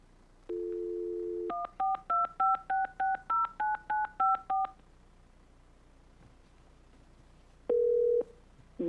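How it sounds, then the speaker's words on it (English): A steady low dial tone plays, then a quick run of about ten touch-tone beeps, followed later by a single short tone. "You can continue to speak, but you're going to hear that dial tone"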